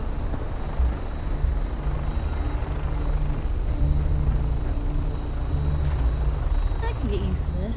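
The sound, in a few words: aircraft flight engine noise in video game Fallout 4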